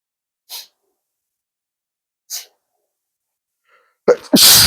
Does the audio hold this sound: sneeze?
yes